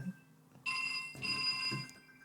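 A home telephone rings with a bright electronic trill, two bursts of ringing in quick succession against a quiet room, with faint voices nearby.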